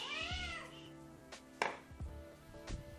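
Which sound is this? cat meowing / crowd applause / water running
cat meowing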